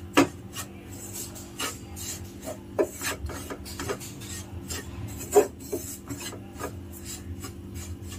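A sugar and gram flour mixture being stirred in a pan for a Pongal sweet, heard as a steady scraping and rasping of a utensil against the pan with occasional sharper knocks.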